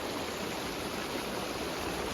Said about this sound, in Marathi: पाण्याचा फ्लो खूप जास्त आहे